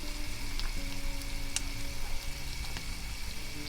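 Turkish red pepper paste sizzles with sautéed onion in a hot pan, giving a steady, close frying hiss with faint crackles throughout.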